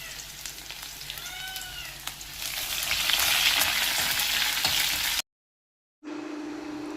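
Mustard seeds and shallots splutter in hot oil with a close, steady crackling sizzle that swells midway, then cuts out briefly before resuming.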